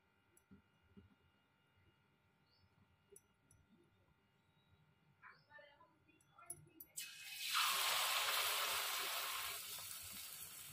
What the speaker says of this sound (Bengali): এখন আমি চাল কুমড়োর পিসগুলোকে ব্যাটারে ডুবিয়ে তেলে ছাড়বো।